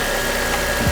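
A small engine runs steadily after starting, a continuous droning hum with a faint whine, close and fairly loud, with no talking.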